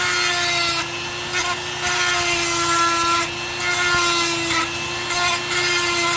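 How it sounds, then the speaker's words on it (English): A Dremel fitted with a diamond bit grinds jasper and quartz stone, giving a loud, steady high-pitched whine with a rough scraping layer that dips briefly in short pauses as the bit is lifted and pressed again. "I'm using a diamond bit on my Dremel"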